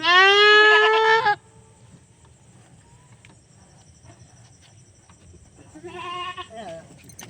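A goat bleats loudly and long, calling out close by, then falls quiet over a faint insect chirring before letting out a second, softer plaintive bleat.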